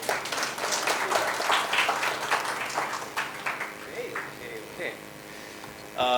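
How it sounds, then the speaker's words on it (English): An audience applauds to welcome a speaker to the stage at a corporate learning and development event, a sustained wash of clapping that slowly thins out over several seconds, with a louder burst near the end. "Welcoming Mr. Kabir Aswani with a huge round of applause."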